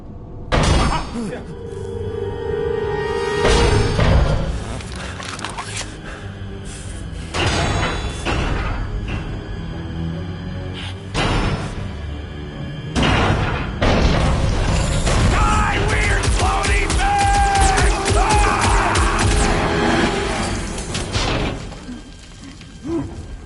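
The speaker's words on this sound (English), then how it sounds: "It's a swarm of old cleaner bots." A swarm of old cleaner bots in a video game clatters and whirs with mechanical rattles, ratcheting clicks, thuds and bursts of crashing debris, loud and busy throughout.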